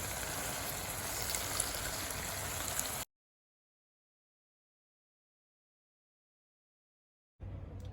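A steady low bubbling and hiss of a tomato chutney mixture simmering in a pan, continuous for a few seconds before cutting out, with a brief return at the end.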